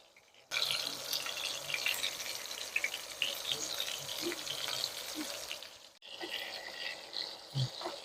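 Tuna fish frying in a pan, cooked the traditional way, gives a steady, close sizzling hiss. It breaks off briefly near the six-second mark, then resumes.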